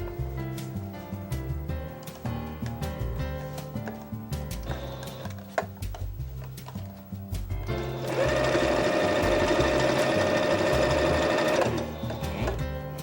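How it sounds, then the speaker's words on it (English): Sewing machine stitching along the shoulders of leggings: a fast, steady mechanical whir that starts partway through and runs loud and continuous for a few seconds, preceded by softer clicks and handling sounds. "take your time and sew along the shoulders."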